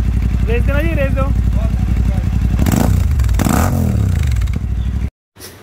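A motorcycle on a newly installed exhaust with both dB killers removed, its engine revving hard in loud rising and falling bursts, close by, before cutting off abruptly; voices can be heard over it.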